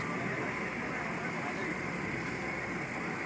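A trawler boat's engine drones steadily as the boat crosses the Ganga river toward Shantipur, a continuous unbroken hum with no pauses.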